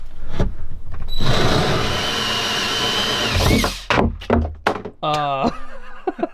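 A power drill whirs steadily for a couple of seconds while drilling through a Sprinter van during a shower build, then winds down, followed by clunks, short bursts and a person speaking briefly.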